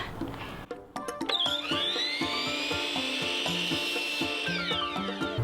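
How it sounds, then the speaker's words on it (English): A power saw spins up and cuts through wooden cross trim for shutters with a steady whining tone, loud and close, after a few brief knocks of the wood being set in place. "Next, we're cutting the cross trim"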